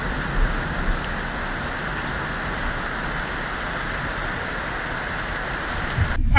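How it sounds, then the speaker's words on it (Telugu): Torrential rain pours down over the Nallagandla division, a steady dense hiss and patter of heavy downpour that holds unbroken and fairly close throughout, with no voices. "నల్లగండ్ల డివిజన్లో కుండపోత వర్షం కురుస్తుంది"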